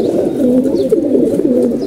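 Pigeons coo in low, rolling, repeated calls close by, overlapping one another continuously against faint background noise.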